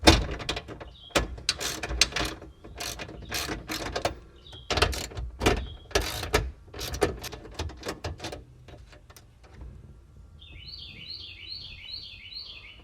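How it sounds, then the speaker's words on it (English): Nuts being undone to free the radio in a 1987 Chevy K10 dash, giving close, sharp ratcheting clicks in quick bursts through the first eight seconds, then quieter mechanical rattling with a faint high chirping. "Next, we'll undo these nuts that hold the radio in the front."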